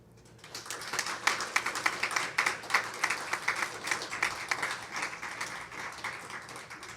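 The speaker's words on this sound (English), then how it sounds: "applaud now." Applause from members of the MacDougall family at a college athletic hall of fame induction ceremony, a steady patter of many hands clapping together in a hall, building quickly and holding for several seconds at moderate volume.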